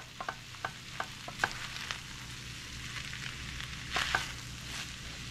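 Turkey frying in a pan and being stirred for a Philly cheese steak casserole, with a steady low sizzle under a series of sharp spoon clacks against the pan and a louder scraping burst near the end.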